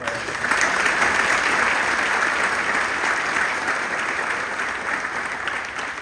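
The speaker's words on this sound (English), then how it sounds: "How about a round of applause for our president?" An audience at a university commissioning ceremony gives sustained, even applause for the president, a full room of clapping hands that holds steady and fades slightly toward the end.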